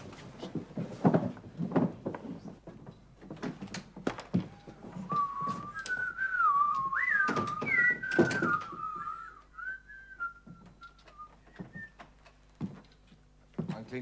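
Staged whistling of bullets flying past in a German TV production of Hauptmann's stage play, a wavering tonal whine rising and falling over several seconds amid scattered thumps and background stage noise.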